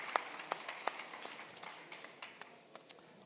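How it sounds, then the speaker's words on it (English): A sparse scattering of individual claps from a conference audience welcoming a private equity speaker, faint and distant, with separate hand strikes spaced irregularly rather than a full round of applause. "Kind of a round of applause, please, for Matteo"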